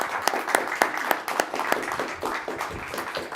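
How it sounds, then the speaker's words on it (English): A small audience at a Wachiska Audubon meeting claps by hand, sharp irregular claps at a moderate level over a faint room murmur, building briefly without becoming a full roar. "let's give Brooke a round of applause"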